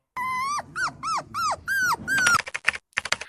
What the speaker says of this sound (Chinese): 哼唧声